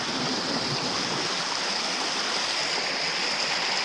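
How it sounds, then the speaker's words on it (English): A waterfall and mountain stream on a hike pour in a loud, steady, broadband rush that fills the whole stretch without a break, close by and unaccompanied by voices. "Splash waterfall."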